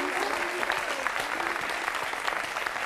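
Studio audience applause on a French television talk show, dense continuous clapping throughout, fairly loud and close, with a faint murmur of voices mixed in.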